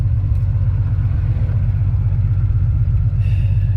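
Steady, loud road rumble from a 1974 Triumph TR6 with the top up cruising at highway speed, a constant low engine and tire drone with no pauses.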